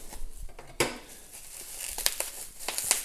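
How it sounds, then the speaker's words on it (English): A cellophane-wrapped package holding a vintage fragrance is cut open with scissors: close crinkling and crackling of plastic wrap with sharp snips and rustles, uneven and busy throughout. "I'm just gonna use scissors."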